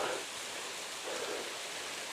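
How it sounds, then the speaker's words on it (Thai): Pha Rom Yen waterfall in Ban Rai, Uthai Thani, plunges from a high mountain cliff, producing a continuous hissing roar of falling water, even and moderately distant, with no one talking. "น้ำตกผาล่มเย็นนู่น ตกมาจากยอดภูเขาสูง"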